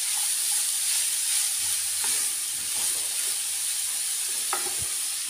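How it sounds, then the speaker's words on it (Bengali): Grated radish with chopped green chillies fries in a pan, giving a bright, continuous sizzle with soft scraping stirs and a couple of faint knocks, close and without talk. "দিয়ে মূলোটাকে একবারে আমি সুন্দর করে কিছুক্ষণ ভেজে নেব"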